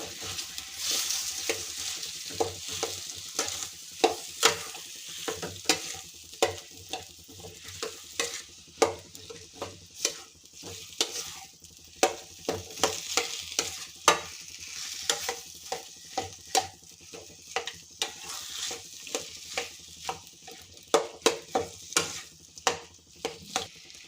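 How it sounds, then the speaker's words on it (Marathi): Mashed potatoes being stirred in a sizzling frying pan for bread patties, a steady frying hiss under repeated scraping and clacking of a spoon against the pan, close and rhythmic. "आपल्याला स्मॅश केलेले आलू घालायचे आहेत हे छान आपल्याला फिरवून घ्यायचं आहे"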